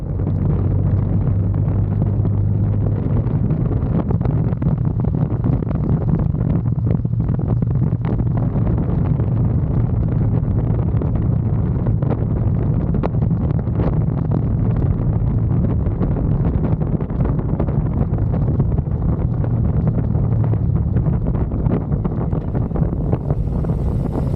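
Steady, loud wind buffeting with a low engine rumble underneath, continuous throughout like riding at speed on a Harley-Davidson motorcycle.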